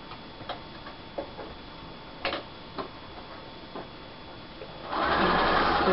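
A sewing machine stitches a paper-piecing seam. A few soft ticks come first, then the motor starts near the end in a dense, steady whirring run.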